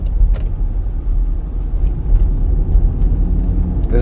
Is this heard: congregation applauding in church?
no